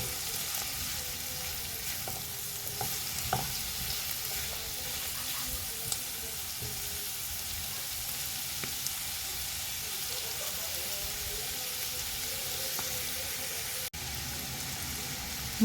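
Vegetables sautéing in a pan for a fish dish, a steady close broadband sizzle with occasional faint stirring clicks and scrapes throughout.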